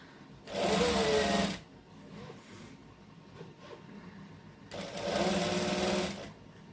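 A sewing machine stitches elastic onto a shirt in two loud, rapid bursts of about a second each, separated by a quieter pause of faint handling noise.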